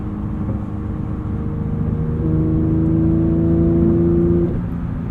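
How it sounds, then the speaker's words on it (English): A 2022 Porsche 911 GT3 with a manual gearbox and a flat-six engine derived from the GT3 Cup car drones steadily while driving, then its tone rises and hardens as the engine revs up before easing back. "There's a few V10s out there that make some pretty special sounds, but something about this flat 6 is just incredible."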